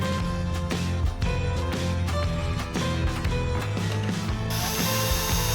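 Tools work on an RC crawler chassis during teardown, making continuous close ratcheting and clicking mechanical sounds with sharp repeated ticks.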